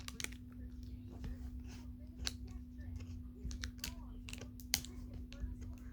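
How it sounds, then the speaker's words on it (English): Fingers type on a Logitech K120 corded USB keyboard with quiet keys, producing an irregular series of close, light clicks and taps over a low steady hum. "Comfortable typing on whispered quiet keys with easy to read characters."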